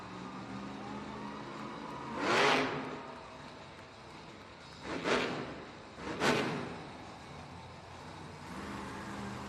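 The El Toro Loco monster truck revs its engine in a Baltimore arena at a Monster Jam event. Three surging roars rise and fall over a steady background din.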